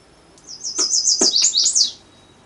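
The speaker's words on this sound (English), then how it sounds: "Let's listen to the chestnut-sided warbler to give you an idea." A high, bright warbler song rings out once, a quick string of sweet repeated notes rising to an emphatic ending, clear and fairly close over quiet background.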